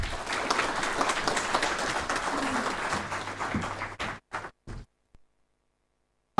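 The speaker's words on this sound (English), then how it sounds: "Please give a huge round of applause." Audience applause fills a hall at a North-East India connectivity forum, a dense burst of clapping for about four seconds that breaks into a few scattered final claps before falling silent.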